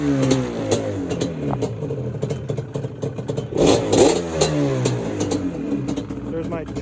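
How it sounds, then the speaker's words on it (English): A 2001 Yamaha Banshee 350 two-stroke quad idling and revving after a kick start in a garage, its engine crackling and rising in short bursts beneath someone talking close by. "there's my 2001 Yamaha Banshee."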